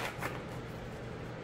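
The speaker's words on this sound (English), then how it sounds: "It is flexible, it bounces back. It's a satisfying shuffle." Linen-finish Superlunaris tarot cards riffle-shuffled close by, a soft papery flutter with a brief burst of crisp clicking near the start, then a steady faint rustle.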